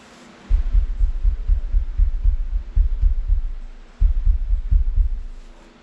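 Dull, boomy thumps from a fist pounding on the back wall of a hollow wooden box, close and loud, landing in an irregular run of strikes with short gaps and no talking.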